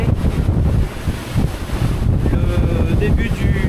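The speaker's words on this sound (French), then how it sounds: "J'ai 22, 25 de vent." Strong wind of about 22 to 25 knots roars steadily across the microphone aboard a sailboat sailing close-hauled, loud and buffeting, with water rushing beneath and faint voices mixed in.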